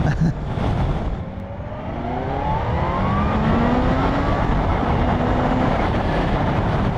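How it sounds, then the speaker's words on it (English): A 2020 Kawasaki Z H2 motorcycle winds on in sixth gear, a loud, close engine drone whose pitch climbs smoothly under heavy wind rush, with no talking. "Let's give it a little bit of a wind on and see what happens in 6th."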